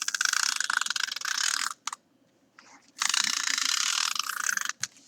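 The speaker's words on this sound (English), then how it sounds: "Just take your tape runner and start there." A tape runner rolls adhesive along a homemade journal in two long, close ratcheting passes, with a short quiet gap between them and a brief click near the end.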